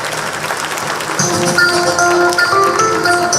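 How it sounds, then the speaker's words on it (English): Crowd clapping at a Kenyan government launch event swells into louder, sustained applause after a moment, steady and full, with no voices over it. "please give our distinguished guests a big round of applause"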